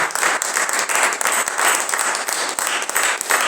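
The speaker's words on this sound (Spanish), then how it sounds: "Denle un fuerte aplauso a nuestro Dios" Loud, steady applause from a church congregation fills the space, dense clapping sustained throughout with slight swells and no voices heard.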